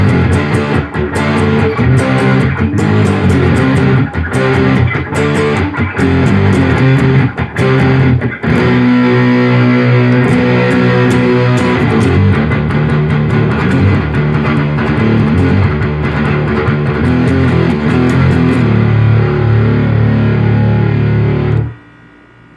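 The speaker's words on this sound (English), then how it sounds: "Then when we kick the distortion up to about 3 o'clock" Electric guitar driven through a ProCo RAT2 distortion pedal with the distortion set near 3 o'clock, loud and heavily saturated, strummed chords and riffs ringing continuously before cutting off abruptly at the end.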